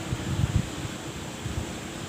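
Strong wind blowing outdoors, a steady low rumbling roar with a few heavier gusts buffeting near the microphone, no voices.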